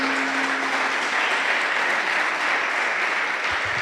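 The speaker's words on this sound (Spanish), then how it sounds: "¿Usted cree que Dios merece un aplauso?" A church congregation applauds at a sermon, a continuous wash of many hands clapping at an even level, with a faint steady tone underneath at the start.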